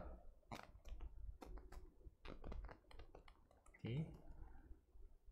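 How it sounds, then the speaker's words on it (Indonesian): Keystrokes clatter in quick bursts on a computer keyboard as a command is typed into a terminal, ending with a firmer press of the Enter key, while a voice talks over the tapping. "Saya ketikkan Glances, lalu saya enter"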